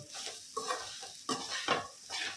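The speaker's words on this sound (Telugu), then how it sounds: "ఇది బాగా కొంచెం ఒక 5 నిమిషాలు వేపేసుకుని దించేసుకోవడమేను" Ivy gourd masala frying in a pan crackles and sizzles loudly, broken by several scraping stirs of a spatula in short bursts, with no talking.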